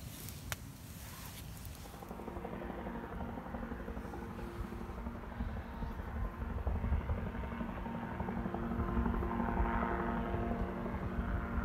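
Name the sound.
light microlight helicopter flying overhead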